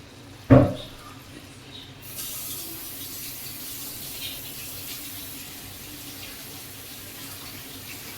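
Hands washed under a running tap in a kitchen while making palm fritters: a sharp knock at the start, then a soft, steady stream of water spraying for several seconds.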